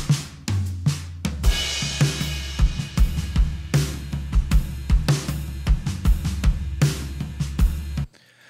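Programmed drum kit edited in Logic Drummer, playing a steady groove of punchy kicks and snare hits under cymbal wash for about eight seconds, then stopping abruptly near the end.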